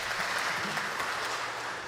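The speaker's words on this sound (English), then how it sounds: "just a quick burst of applause" Quick burst of audience applause at a benefit concert by a bluegrass trio, dense steady clapping throughout, fairly distant and even in level, with no voices standing out.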